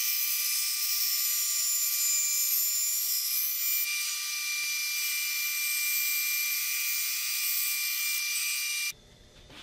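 Band saw blade slicing thin laminate layers from a board for guitar bindings, a steady high-pitched whine and rasp running continuously and loud for about nine seconds before stopping abruptly.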